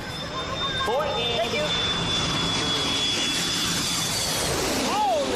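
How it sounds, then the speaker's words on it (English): A large jet airplane flying overhead, its steady broad engine roar filling the whole stretch at close, loud range while several people talk and count over it. "Holy smack, that is a big plane."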